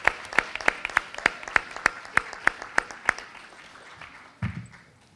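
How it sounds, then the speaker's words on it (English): An audience at a school board meeting claps for a student winner in a short burst of about a dozen distinct, fairly close handclaps that thin out and stop. "Round of applause for Damian Castillo."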